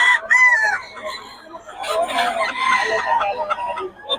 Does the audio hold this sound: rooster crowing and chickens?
yes